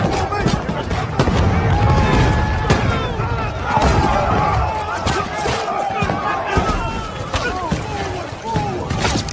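Gunfire and bomb blasts ring out in a battle scene from the film Emancipation, dense sharp shots and heavy impacts in rapid succession, loud and chaotic, with voices beneath.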